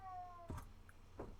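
A male house cat lets out short, fairly faint meows at close range, two brief calls about half a second apart over a steady low hum.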